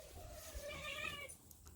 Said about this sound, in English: Hazel, be nice to the cat.